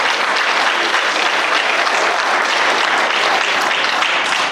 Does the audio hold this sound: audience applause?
yes